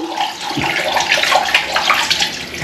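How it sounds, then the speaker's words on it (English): Hot water from a tap runs steadily into a plugged sink, a continuous close splashing and gurgling rush that stays loud throughout. "get some hot water in the sink, plug in"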